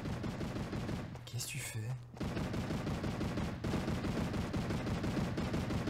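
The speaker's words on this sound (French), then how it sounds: "Ah, c'est une tourelle!" Rapid automatic gunfire from a turret in the Fortnite video game, a dense continuous fusillade of shots running throughout, briefly broken by a short burst of in-game sound, with a voice speaking over it.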